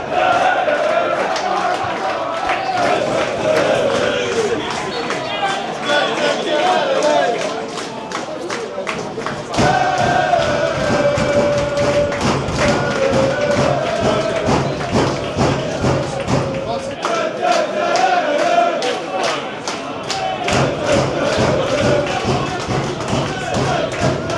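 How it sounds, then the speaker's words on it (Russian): Woking FC supporters on the terraces at a non-league football match chant and clap in rhythm, with repeated thumping beats and massed voices, loud and close, with brief dips between chants. "По первым минутам болельщики Уокинга очень даже качественно поддерживают свою команду здесь на заворотке"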